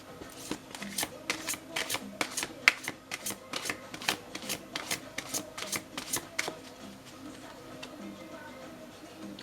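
A deck of cards is shuffled close by: a quick series of crisp flicking snaps for about six seconds that then tapers into quieter rustling, with a faint voice in the background.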